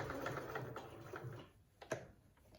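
A sewing machine stitches through fabric and wadding backing, a steady rapid mechanical run for about a second and a half before slowing to a few quieter separate stitches and clicks near the end.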